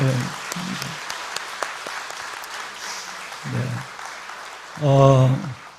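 A church congregation applauds during a Sunday service, a soft, even patter of clapping running beneath short bursts of a speaking voice.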